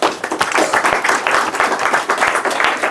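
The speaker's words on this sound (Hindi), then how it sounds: "वेरी गुड, ताली बजाएं।" A math class in a classroom bursts into loud, steady applause, many hands clapping in a dense, close burst with no talking.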